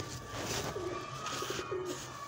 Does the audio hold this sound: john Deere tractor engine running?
no